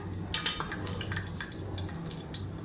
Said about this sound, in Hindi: ये देखिए, कड़कड़ाने लग गया।